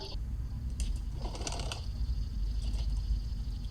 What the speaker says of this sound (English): It just sounds like a bird.